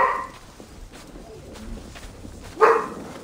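A dog in Assassin's Creed Valhalla gives a couple of short, fairly faint barks against a low ambient game backdrop, with the last bark slightly louder.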